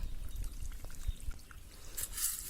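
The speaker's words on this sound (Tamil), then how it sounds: "இப்போ இந்த இரும்பு சட்டியில ஒரு 3 தேக்கரண்டி அளவுக்கு நல்லெண்ணெய் சேர்த்துக்கிறேன்" Sesame oil poured into an iron pan over a wood-fired stove gives a faint, brief trickle and soft sizzle, with low background rumble throughout and no talking.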